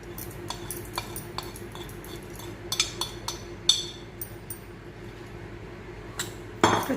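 Spoon or ladle clinks against a metal bowl while spice masala is stirred into cooled oil for a raw mango and kabuli chana pickle, giving soft scattered taps with a sharper knock near the end and no talk.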